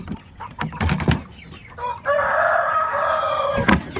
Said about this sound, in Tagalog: Yan po ang ating Shamu. Isang stag po